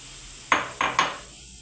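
A frying pan is set down and handled on a stovetop while tomato pizza sauce with red and green peppers is being made, giving three sharp metallic knocks in quick succession, close and clear, with no talking.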